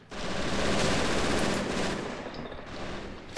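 Sustained, close, loud bursts of MG42 machine gun fire in a World War II shooter match, a dense continuous rattle of rapid shots with no speech over it.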